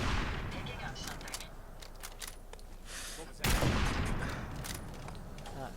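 Automated turrets fire at the player in Fallout 4, a rapid volley of gunfire over several seconds with a sharp louder burst midway, under faint background noise.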